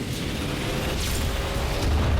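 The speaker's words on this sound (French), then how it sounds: "Missile en approche détecté." A loud, rumbling missile explosion in Ratchet and Clank on PS4 roars with dense low-end power, swelling slightly toward the end, no voices present.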